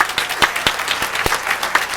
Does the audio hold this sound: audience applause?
yes